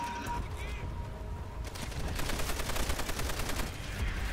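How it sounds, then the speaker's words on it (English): Sustained gunfire rattles in Call of Duty: World at War during a co-op campaign match, with dense rapid bursts that grow louder and more continuous in the second half, mixed with game noise and possible voices. "Oh my god, I just got gunned"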